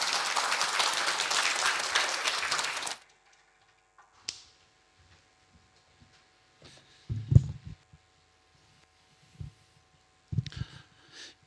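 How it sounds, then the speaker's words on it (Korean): A church congregation at a Sunday worship service gives a burst of applause to welcome a visiting pastor; dense clapping lasts about three seconds and stops abruptly, followed by near silence broken by a few faint knocks and rustles. "박수로 환영하겠습니다"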